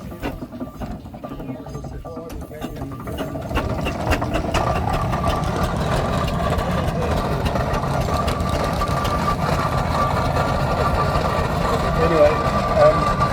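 A heavy traction engine idles and chugs steadily at an outdoor car meet in a low continuous rumble, growing fuller after a few seconds and running throughout.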